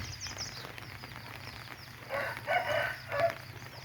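A rooster crows in short bursts over a low background hum, the calls rising and breaking off in the second half.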